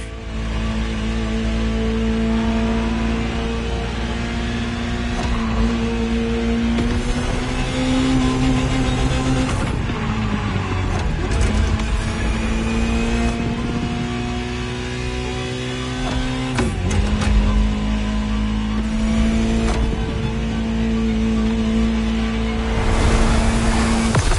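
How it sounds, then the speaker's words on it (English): A Ferrari supercar engine in the racing game The Crew Motorfest drones steadily and loudly throughout, its pitch shifting as it changes gears around the middle and again later, with no voices. "Just listen to the car you're driving."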